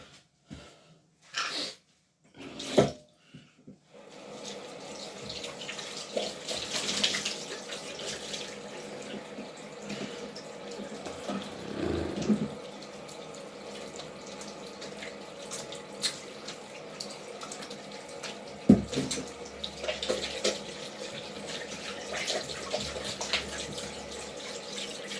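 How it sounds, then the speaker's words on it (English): Hands washed under a running tap after sanding sawdust: a few sharp knocks at first, then a steady soft stream of water into a sink with occasional splashes and drips. "Now we wash our hands."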